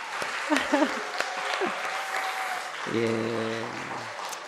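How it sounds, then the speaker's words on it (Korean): Church congregation applauding to congratulate an engaged couple, broad clapping heard fairly close, with a few voices and a brief sung or spoken tone near the end. "미리 한번 축하의 박수 한번 드리도록 하겠습니다"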